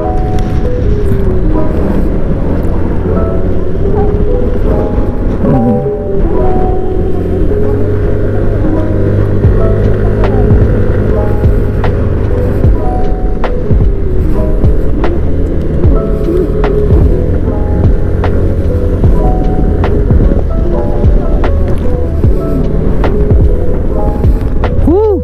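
Strong wind in San Nicolas, Pangasinan, batters the microphone as a loud, unbroken low rumble and roar that lasts throughout, with a steady hum beneath.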